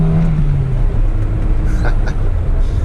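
A 1992 Honda Civic hatchback engine pulls at full throttle from the driver's seat, a loud steady drone with a rising tone under road and cabin rumble.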